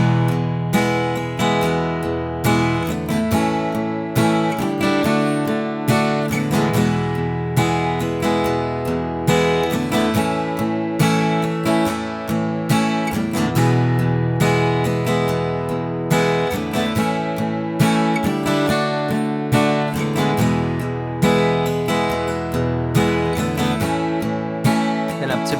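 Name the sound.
guitar chord progression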